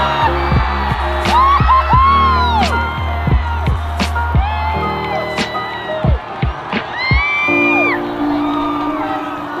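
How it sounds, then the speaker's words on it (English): A huge crowd at the finish of a record sub-two-hour marathon roars and cheers, with loud overlapping whoops, shouts and yells rising and falling in a continuous din close by. "crossed the line with the greatest roar from a crowd I have ever heard"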